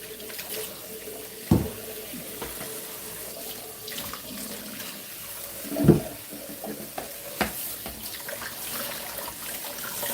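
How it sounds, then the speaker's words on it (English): Running tap water streams steadily into a kitchen sink while produce is rinsed for morning green juice, with a few louder thuds and splashes as items are handled under the flow. "So we'll be rinsing this out as well and get it ready for chopping"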